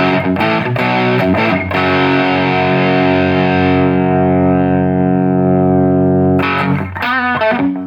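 Electric guitar played through a Behringer TO800 Vintage Tube Overdrive pedal with the drive set halfway, giving a few quick picked stabs and then a loud, crunchy sustained chord that rings for several seconds before more short strums.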